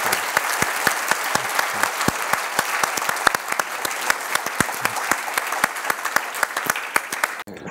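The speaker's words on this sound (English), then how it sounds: "let's have a big round of applause for Cass" Audience applause after a talk on judicial minimalism and Star Wars, a steady bed of many hands clapping with distinct sharp claps standing out, sustained evenly, then cut off abruptly near the end.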